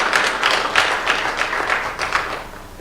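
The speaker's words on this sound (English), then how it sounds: "Let's applaud Professor Charles." Audience applause for a professor on a high-level education panel, a steady patter of many hands clapping at moderate volume, fairly even across the short stretch with no talk over it.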